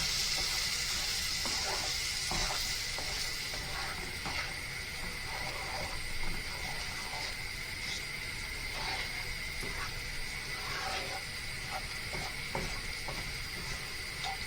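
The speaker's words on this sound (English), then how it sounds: "Now we're going to give that a nice little mix together." A pan of wild rabbit jalfrezi sizzles steadily while being stirred, with a continuous hiss and small scraping clicks from the mixing, quiet and without talk.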